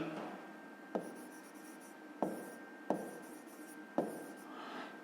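Pen writing on paper for a fifth-grade maths exercise, soft close scratching strokes with a few sharper taps as the pen touches down, quiet and alone.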